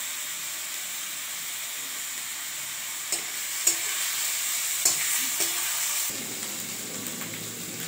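Onions fry in a pan with a constant hissing sizzle, and scraping stirs and clinks of a spatula arrive as a few sharp knocks partway through, close and clear.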